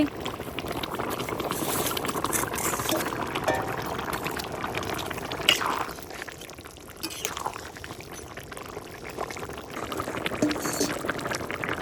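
Climbing perch (koi fish) go into a cooking pot with turmeric, a wet sizzling and splashing hiss that runs steadily with small bursts and shifts in level, close by and without talking.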